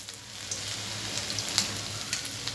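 Ginger frying in mustard oil in a wok: a steady, dense hiss of sizzling oil with small crackles and pops throughout, close and continuous, no voices.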